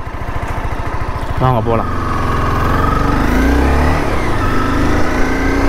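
A 2011 Honda CBR250R motorcycle engine starts with a quick cranking burst and settles into a steady, close running hum with light revving, while someone talks over it.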